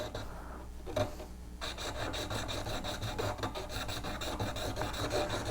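A V-parting carving tool is rubbed back and forth on a sharpening stone, giving a steady rasping scrape in repeated strokes, close and continuous, with a brief pause near the start.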